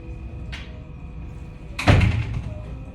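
A door closes with a solid thud near the two-second mark, after a brief lighter rattle earlier, against a quiet indoor background.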